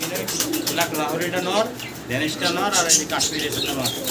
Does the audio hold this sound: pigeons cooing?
yes